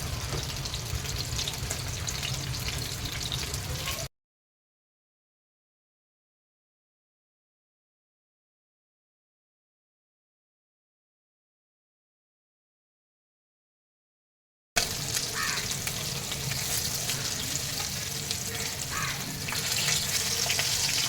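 Bhangda (mackerel) fish frying in a pan over low to medium heat, giving a steady hissing sizzle that breaks off into silence partway through and then returns just as loud.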